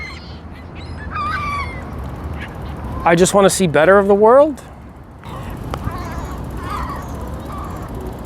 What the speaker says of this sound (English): Like all of these birds eating bread.